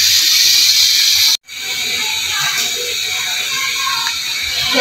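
Loud steady hiss of spices sizzling in hot oil for a baghar tempering, breaking off for a moment then resuming as a continuous close crackle.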